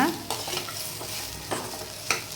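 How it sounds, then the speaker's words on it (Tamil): Pirandai chutney ingredients being sautéed in a pan, with a soft steady sizzle and several sharp stirring scrapes of a spoon against the pan, close and alone with no talk. "நல்லா வதக்கிக்கோங்க"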